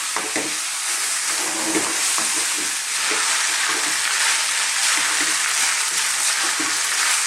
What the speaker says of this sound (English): Keep pressing it around, mixing those onions in, and that beef will break down and give off some moisture